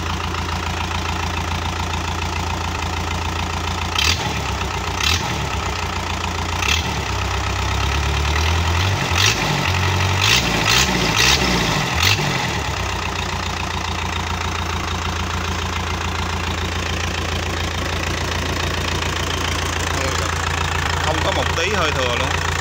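Daewoo/Isuzu 4BC2 diesel engine idles with a steady low clatter, then revs in a few short bursts before settling back to idle, heard close by.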